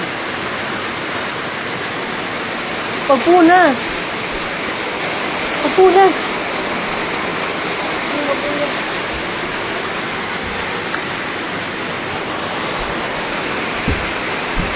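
Heavy rain pouring steadily on a rural farm, a constant dense hiss, with a person's brief spoken words breaking through twice over the downpour.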